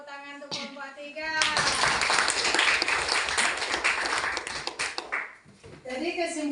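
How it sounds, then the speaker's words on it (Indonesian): A classroom group bursts into applause for a student team, a dense wash of clapping that swells after a voice speaks, carries on for several seconds, fades, then voices return near the end. "Tepuk tangan untuk kelompok 3."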